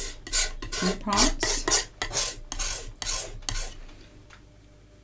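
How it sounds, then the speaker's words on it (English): Dark green paint is scraped over red on a canvas in a series of rough, rasping strokes, loud and close, fading to quieter scrapes by the end, with a brief spoken word. "start with maybe a darkish green and just try scraping some over the red"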